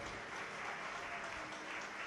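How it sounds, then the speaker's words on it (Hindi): An audience claps at a live Shiv Mahapuran katha religious gathering, giving a dense, steady burst of applause with no voices over it. "एक बार आपके लिए भी जोरदार ताली बजाकर साधुवाद।"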